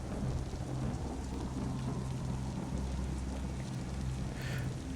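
Steady heavy rain with low rolling thunder in the indie Lovecraftian horror game The Picture In The House, a dense continuous downpour with a deep rumble underneath and no talking.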